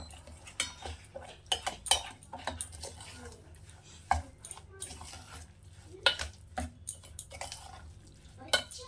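A spoon stirs semolina batter with milk in a bowl. Irregular clinks of cutlery against the dish come close and clear, with soft wet mixing between the knocks and no talking.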